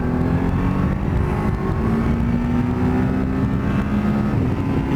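A motorcycle accelerates hard from 30 to 60 with clutchless gear changes, the engine drone climbing steadily in pitch, loud and close, without pause.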